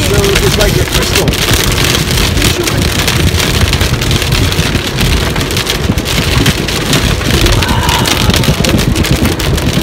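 Heavy rain pouring down steadily on Salt Spring Island, loud and close with constant dense patter and some wind buffeting the microphone.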